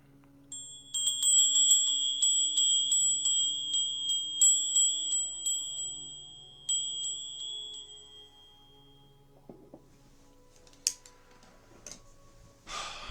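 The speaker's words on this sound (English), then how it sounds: "We're going to clear the energy with a bell before we get started." A bell rung to clear the energy before a guided meditation gives a quick series of bright, close strikes whose shimmering ring gradually fades, followed by quiet breathing and faint room sounds.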